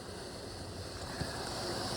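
Floodwater pouring into a storm drain, a dense, constant rushing wash of flowing water that holds steady and close with no breaks.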